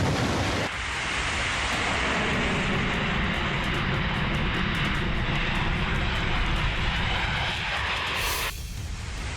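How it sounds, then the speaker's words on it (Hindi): A military fighter jet, an F-35, roars continuously with a loud, broadband engine rush that holds steady for most of the clip, then drops off abruptly near the end; no voices. "F-35 लड़ाकू विमान उड़ा।"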